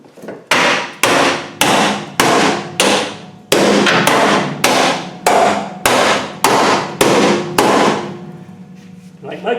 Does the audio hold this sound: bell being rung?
no